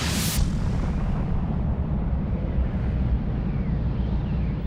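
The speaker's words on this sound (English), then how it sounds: "While we see the outward explosion as a supernova, this masks the implosion going on inside." A supernova explosion sound effect: a brief bright burst at the start, then a sustained deep, heavy rumble that holds steady and loud throughout.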